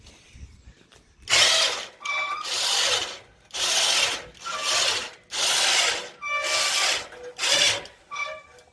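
A DeWalt 20 volt battery-powered tool running in bursts during a car teardown, about eight loud, rasping whirs of roughly half a second each, separated by short pauses, close to the mic.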